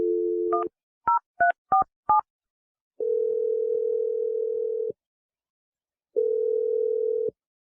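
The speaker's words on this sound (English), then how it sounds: "I'm going to dial his number right now." Telephone keypad tones as a number is dialed: a quick run of five short beeps, then two long steady ringback tones separated by a pause, loud and clear with no talking.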